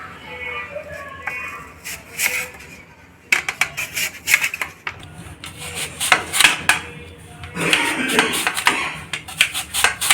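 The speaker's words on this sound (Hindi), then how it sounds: "ऐसे आलू को ऐसे करके काटेंगे, ऐसे, ताकि हमारा चिप्स बड़ा बड़ा निकले" Raw potatoes being sliced into large chips on a cutting board, with repeated crisp chopping and scraping strokes in bursts, loud and close, plus clattering kitchenware.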